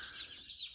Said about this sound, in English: nice calm chirping